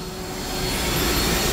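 The Bat Plane jet in the video game Batman: Arkham Asylum gives a steady, broad roar that swells slightly as it passes overhead, with no talking.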